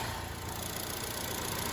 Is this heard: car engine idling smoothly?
yes